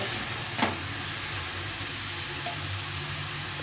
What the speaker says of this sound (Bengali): এর মধ্যে এই চারটে কাঁচা লঙ্কা দিয়ে দেবো দিয়ে ভালো করে বাঁধাকপিটাকে এখন কষিয়ে কষিয়ে রান্না করে নেব